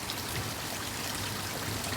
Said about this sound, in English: So you should be able to hear that quite loud then, the sound of the waterfall